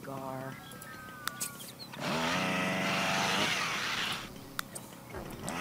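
A chainsaw in The Sims 3 roars as a loud buzzing burst of about two seconds mid-clip, with quieter game sounds and talk before and after.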